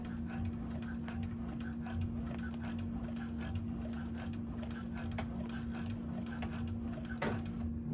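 An industrial 1341 cylinder arm sewing machine back stitches TPU vinyl with a continuous fast ticking mechanical chatter over a steady hum. The sound holds at a constant level throughout, with no talking.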